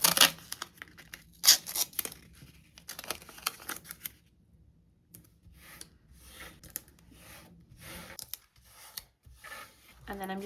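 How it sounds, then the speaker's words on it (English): Masking tape is torn off the roll and laid down on a desk in a series of short, close ripping and rubbing bursts separated by quiet gaps, fairly faint overall. "just lay out some of this masking tape on my desk here"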